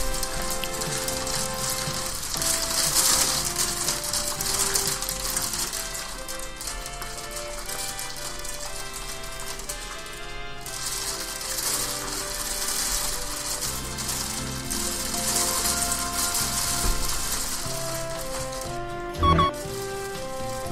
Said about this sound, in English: Rain and hail, go away, fuck off and don't come back any other day.